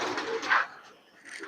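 Pigeons in a crowded pigeon loft coo softly up close, a low rolling call followed by a fainter second coo.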